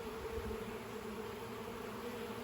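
Young honey bees emerging from a brood frame in a hive nuc, a faint continuous buzzing hum with a low drone and no talk over it.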